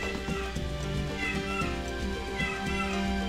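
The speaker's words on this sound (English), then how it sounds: "And that's my cat." A domestic cat meows several times, close and fairly clear, over steady background game music with no talk.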